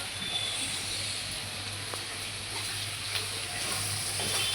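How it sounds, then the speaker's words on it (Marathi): Onion frying in a hot pan for a potato and ridge gourd bhaji gives a faint, steady sizzling hiss that runs evenly throughout. "आपला कांदा पण एकदम छानसा भाजलेला आहे."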